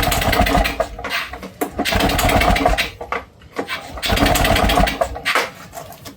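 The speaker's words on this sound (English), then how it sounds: "And we'll see if we can start the engine." A Victa Clubsman two-stroke lawn mower that won't start is pulled over repeatedly, giving several loud bursts of rattling, sputtering engine noise separated by brief pauses, close up with no voices.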